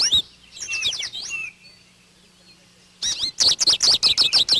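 Winter goldfinches in dull olive-green plumage chirping near a backyard feeder, a few bright tweets at first, a pause, then a rapid run of close, loud twittering calls.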